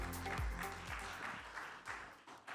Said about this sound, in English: Let's give Mr. Tony a big round of applause.